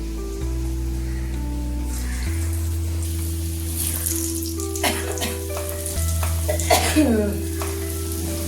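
Meat or urad dal pakoras drop into hot oil and fry with a crackling hiss that swells midway into sharper bursts of spitting, while a steady low hum runs underneath throughout.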